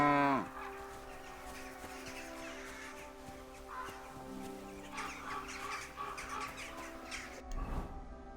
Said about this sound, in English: Hello there, cow.